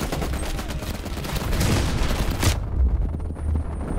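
Heavy, dense gunfire in Call of Duty: Black Ops Cold War, a continuous barrage for about two and a half seconds that cuts off abruptly, leaving low rumbling impacts and distant booms.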